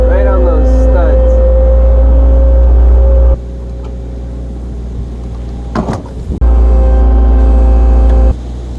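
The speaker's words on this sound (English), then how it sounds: "I'm just gonna literally push on it with the skid loader, move it that way until I think it's straight" A skid loader's engine drones loudly and steadily up close while pushing on a wooden granary wall to straighten the foundation. The engine eases off midway, a brief clatter follows, then the drone returns.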